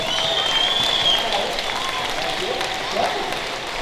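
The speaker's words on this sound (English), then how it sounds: "Let's give Bill a big round of applause." An audience at a 2019 time capsule ceremony applauds school board member Bill Harvey with steady, moderately loud clapping and some crowd noise, voices mixed in.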